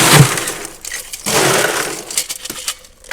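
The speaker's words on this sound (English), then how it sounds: "we're going to shake." A mocktail of lemon and lime juice with a pinch of salt is shaken hard in a leaky cocktail shaker, giving a loud, dense rattle in two bursts separated by a short pause, with no talk.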